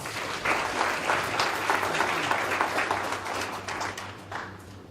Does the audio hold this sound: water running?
no